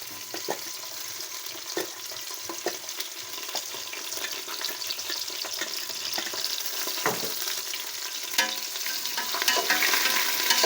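Onions and green chilies fry in a pan, a continuous bright sizzle with scattered stirring scrapes and clicks throughout, growing slightly louder toward the end.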